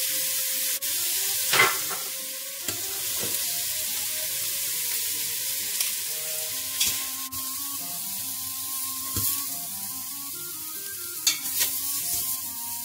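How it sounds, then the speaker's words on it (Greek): Chicken pieces sauté in a pan for chicken cacciatore, giving a steady, close sizzle with occasional louder crackles and pops from turning and stirring. "Θα τσιγαρίζουμε λίγο και από την πίσω πλευρά."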